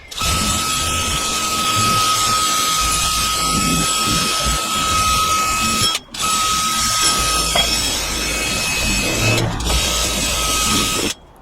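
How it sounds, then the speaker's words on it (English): Rusty brake shoe parts from a Honda Camino PA50 moped are scrubbed with a wire brush, giving a loud continuous whirring, scratching grind that pauses briefly twice. "Wire brush."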